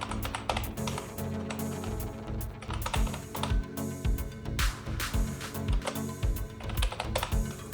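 Rapid typing on a laptop computer keyboard while entering a local IP address, a dense run of crisp key clicks with brief pauses, close and loud, with no talking.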